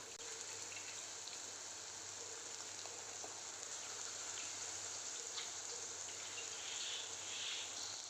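Steady sizzling and crackling of prawns frying in hot oil, a continuous bright hiss with small pops scattered throughout, close by.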